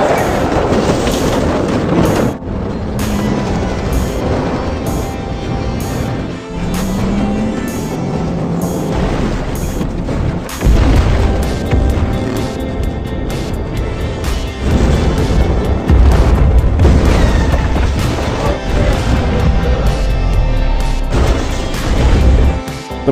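Land mines erupt around speeding cars in the film Fast and Furious 9, with loud booming blasts and crashes breaking through a continuous roar of engines and score.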